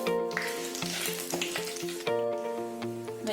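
Mustard seeds, fenugreek and curry leaves crackle and sizzle in hot oil, a close, lively fry with sharp spitting pops and a fresh burst of sizzling partway through, no voices over it.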